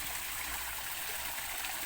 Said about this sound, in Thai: มีน้ำตกลงมาที่แอ่งเล็กๆ ตรงนี้